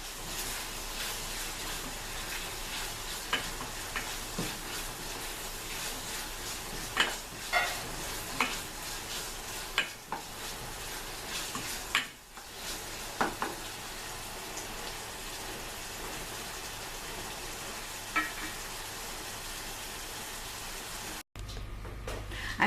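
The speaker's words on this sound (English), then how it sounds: "Now we can see the steak is really getting done nicely." Steak and bacon fry together in a pan, giving a steady soft sizzle with occasional pops and crackles.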